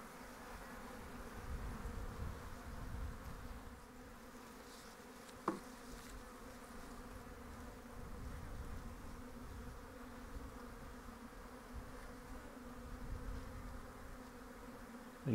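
A steady, close swarm of honey bees in an open hive hums continuously, a low droning buzz with a couple of brief knocks.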